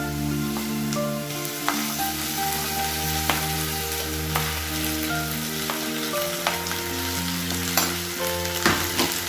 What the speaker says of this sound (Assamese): আদা নহৰু বটাখিনি অলপ দেৰি ভালদৰে ভাজি ল'ব লাগিব